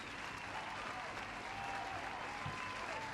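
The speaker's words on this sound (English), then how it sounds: "let's keep that YouTube applause playlist going for Nicole" Recorded applause plays back at a community poetry anthology launch event, a steady, even wash of clapping that holds at one level for the whole stretch with no voices over it.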